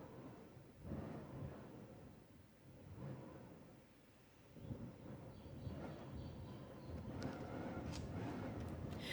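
A storm sound effect of rumbling wind and distant thunder rolls on as a low, faint, continuous roar with swelling gusts and a few sharper bursts toward the end, no voices.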